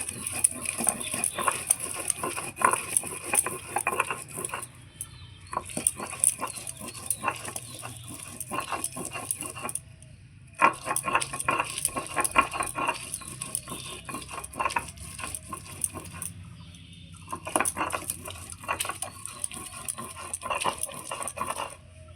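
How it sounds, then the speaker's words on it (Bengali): Pointed gourds (potol) being ground into a paste for chutney, with repeated rhythmic grinding and scraping strokes that come in bursts and stop briefly now and then, close and moderately loud with no talking. "এবার পটলগুলো বেটে নেব।"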